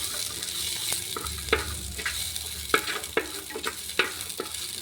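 Onion and green chilli sizzling in a hot pan, a steady frying hiss broken by sharp clicks and scrapes as a spoon stirs, close and fairly loud.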